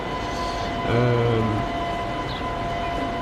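A train runs in Transport Fever 2 on an Austrian Zillertal map, a steady loud rumble and hum with a brief horn-like tonal swell about a second in, no talk.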